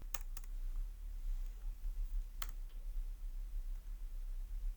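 A computer keyboard is pressed while entering data in Tally Prime, giving a few sharp isolated key clicks spaced apart over a low steady hum, close and faint.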